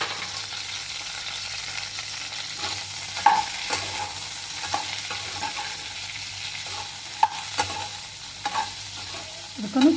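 Cauliflower fries in a pan for an aloo gobi dish, with a steady soft sizzle and intermittent scraping knocks as it is stirred, close by with no talk.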